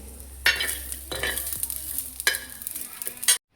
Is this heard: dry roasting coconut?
yes